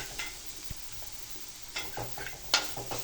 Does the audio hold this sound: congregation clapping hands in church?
no